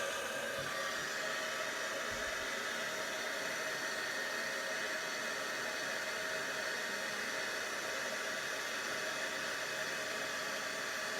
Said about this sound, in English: use the heat gun to melt the powder